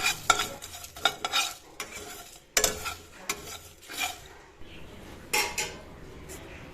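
Cumin, coriander and a dried chilli dry roasting in a pan, with a spoon stirring and scraping in irregular bursts, close and clear with no talk.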